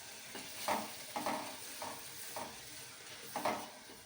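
Usal curry with spices is stirred in a pan, a soft sizzle broken by repeated rhythmic scraping strokes roughly every half second to second, quiet and close, no voices.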